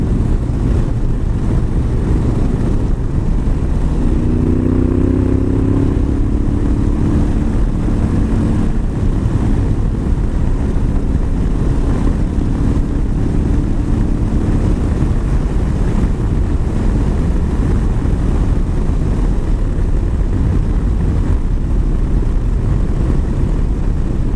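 A Honda Africa Twin motorcycle fitted with an aftermarket exhaust riding along, its engine a loud continuous low drone heavily mixed with wind rush across the microphone, with a few brief rising tones midway.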